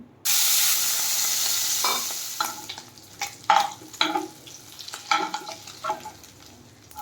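Shrimp dropped briefly into hot oil: a sudden loud sizzle bursts in and then fades, followed by scraping and stirring clatters in the pan, with no voices.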